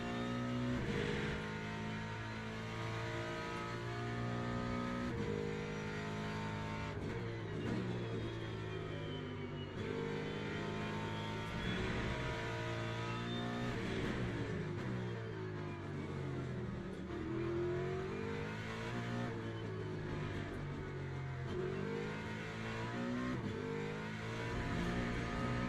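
A race car engine in the Le Mans Ultimate video game revs and accelerates loudly and continuously, its pitch climbing and dropping through gear changes, with no talking.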